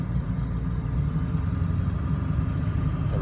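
A 1999 Ford F250 diesel truck engine running at a steady idle, a continuous low rumbling drone with a fine rapid clatter, close and unbroken throughout.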